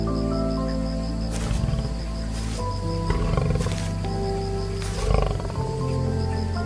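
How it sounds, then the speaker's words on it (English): A wild male lion roars at dawn on the African plains with several deep, heavy bursts. The roars rise over a loud, constant musical score, and no one speaks. "As the first rays of dawn appear, a male lion's roar can travel for up to 5 miles."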